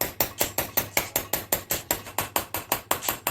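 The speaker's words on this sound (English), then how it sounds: "Line it up as best as you can so there's no binding when you try and tap your pin back in." Hammer tapping a pin into a Lock Right lunchbox locker on a Toyota, a steady run of sharp metallic strikes at an even quick rhythm, close and loud.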